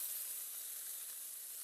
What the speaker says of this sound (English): after we get these pork chops browned, which is what we're doing right now